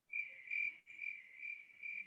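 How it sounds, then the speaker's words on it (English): Steady high-pitched cricket chirping played alone as a comic sound effect, a continuous trilling drone with slight pulsing and no voices over it. "Crickets."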